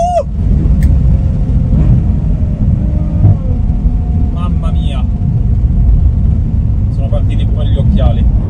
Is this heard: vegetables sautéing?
no